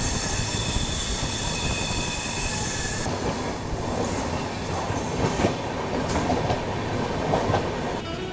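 A train pulls out of Jaipur Junction railway station, a steady loud rolling rumble with clattering wheels over the rails and a high metallic wheel squeal that fades partway through, heard from on board.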